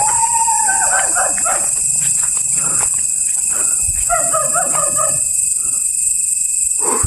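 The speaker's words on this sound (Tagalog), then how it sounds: "Merong aso kanina pa yan eh." A dog barks and howls in a few drawn-out calls at night along a roadside where a vehicle has broken down, set against a constant high-pitched hiss of insects.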